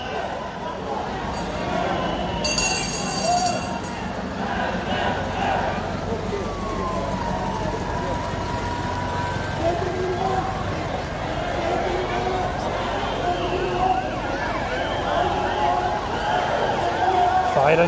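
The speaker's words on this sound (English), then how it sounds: "Ambulance coming." An ambulance siren passing a Scottish independence march in Glasgow, its wail weaving under a dense crowd roar of chanting voices and street noise, with a brief bright shrill burst partway through.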